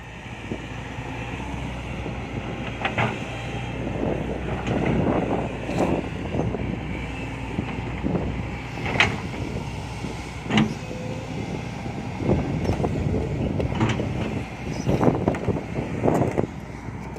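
Strong wind batters the microphone outdoors, producing continuous low rumbling buffets with gusty surges over the whole stretch, loud and close.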